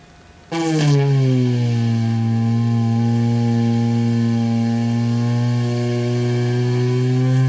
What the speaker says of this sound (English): we're going to start by drilling about 1/8 of an inch in front of the point